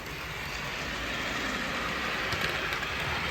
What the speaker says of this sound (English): the locomotives have started back up again, and there comes the 40 again